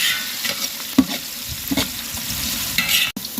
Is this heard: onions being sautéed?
yes